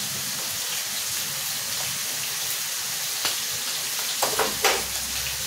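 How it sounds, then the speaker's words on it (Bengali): Bottle gourd with poppy seeds fries in a pan with a steady, hissing sizzle, broken near the end by a few brief utensil scrapes and knocks. "পোস্তটা দিয়ে আরেকটু ভাজা ভাজা করবো, করে তারপর একটুখানি চিনি দিয়ে নামিয়ে দেবো"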